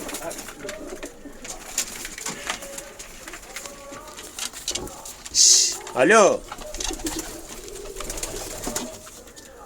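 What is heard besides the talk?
pigeons cooing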